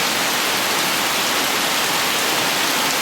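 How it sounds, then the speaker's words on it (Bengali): Rain falls steadily in an outdoor setting, a dense even hiss close by with no breaks. "বৃষ্টি বাড়তেছে"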